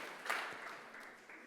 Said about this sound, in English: Give yourself a round of applause for being so beautiful.